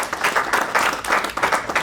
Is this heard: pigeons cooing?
no